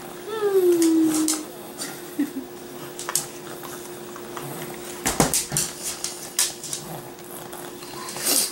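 A sleeping dog gives a brief high whine early on, followed by faint snuffles and small squishy noises in a quiet room.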